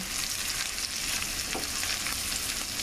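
Onions and peppers fry in butter and olive oil with a steady, close crackling sizzle that fills the whole stretch, and a spoon occasionally scrapes and stirs through the pan.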